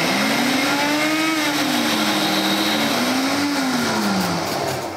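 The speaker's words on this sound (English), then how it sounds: "We're going to go ahead and put that right in the blender. So let's go ahead and just do it on low." A blender running on low speed mixes lemon juice for hollandaise sauce, a loud, steady motor whir with a slowly wavering hum that continues throughout, with no talking.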